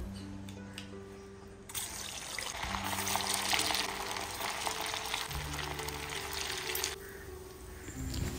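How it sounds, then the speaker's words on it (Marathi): Fasting-style medu vada for Ashadhi Ekadashi go into hot oil in a kadhai. A broad, steady frying hiss swells for about five seconds, then drops back over a low background hum. "आता आपण ही मेंदू वडी यामध्ये तळून घेऊया."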